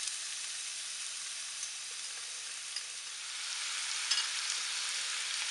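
Onions fry in olive oil in a pan, giving a steady, bright sizzle that holds evenly throughout with a few small crackles and no voices.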